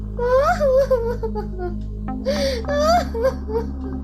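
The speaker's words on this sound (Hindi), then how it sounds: "अचानक दरवाजे के बाहर से धीरे धीरे किसी की रोने की आवाज आने लगी।" Someone cries softly nearby, with wavering, breathy sobs and low moans coming in short repeated bursts over a faint steady hum.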